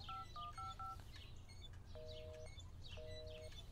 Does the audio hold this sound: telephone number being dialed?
yes